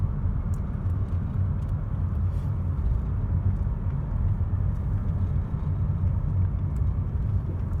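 A car drives through a park in the Almeda Fire area nine months after the fire, a steady low interior road rumble and engine hum continuing evenly and without pause.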